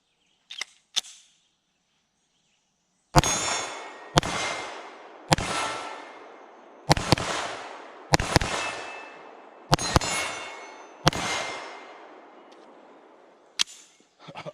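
A Smith & Wesson M&P 2.0 Metal 9mm pistol with a compensator fires a magazine of sharp, loud gunshots: two early quick pops, then about nine spaced reports, some paired as fast double taps, each with a short ringing decay.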